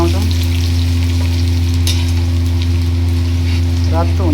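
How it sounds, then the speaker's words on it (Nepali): Garlic sizzling and crackling in hot oil while being stirred, a loud continuous frying hiss with a steady low hum beneath and a few scraping stirs. "अब हामी लसुन हाल्छौँ, लसुन राख्छौँ। लसुनलाई एकछिन चलाउँछौँ"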